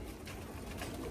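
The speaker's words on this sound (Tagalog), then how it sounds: "Ayan mga ibon." Soft cooing of pigeons or doves heard outdoors beside a running course, a brief low warble repeating over steady background noise, with no voices.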